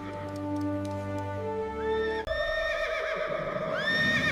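Horses neigh and whinny loudly in a series of rising, quavering calls, with a faint clip-clop of hooves beneath, close and clear with no talking.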